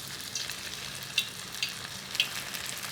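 Battered onion rings fry in hot oil with a steady bright sizzle, broken by a few sharper pops and crackles as the rings hit the oil.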